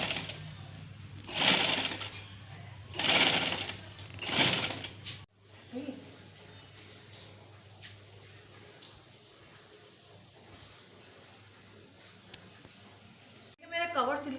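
A sewing machine stitches lace onto the frill of a homemade sewing machine cover in three short whirring bursts, then a long quieter stretch and a final burst, with speech.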